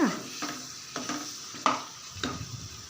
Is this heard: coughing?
no